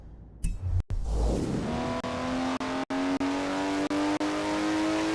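A car engine in the Forza Horizon racing game revs hard and holds a rising, steady whine, broken by a few sharp gear-shift cuts, loud and close with no talking.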